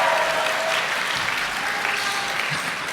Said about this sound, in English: I love that there's applause.